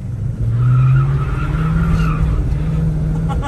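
A 1964 Chevrolet Nova spins its tires on a wet road, a loud close tire squeal layered over engine roar that rises and holds for a few seconds.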